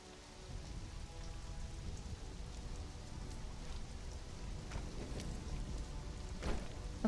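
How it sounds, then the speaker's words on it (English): Rain falling in Conan Exiles, a steady soft patter of drops hitting surfaces, even and continuous throughout with a few sharper splashes near the end, quiet and without voices. "It's raining a lot."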